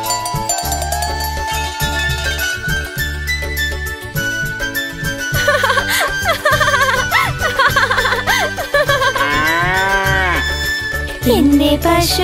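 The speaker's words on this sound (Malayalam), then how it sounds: "സ്നേഹമുള്ള പശുവാണേ" Within a Malayalam children's nursery rhyme about a beloved cow, a cartoon cow moos repeatedly over bouncy music with jingling bells and a steady beat, its drawn-out moos sliding in pitch.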